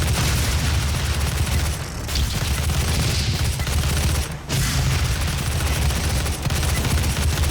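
Rapid gunfire while shooting enemies in the video game Doom, dense repeated shots and booms running almost continuously with only brief gaps, loud and close.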